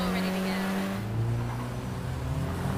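A Mahindra XUV 500 SUV driving through city streets in GTA 5, its steady engine drone shifting pitch as it moves, with a voice talking over it throughout.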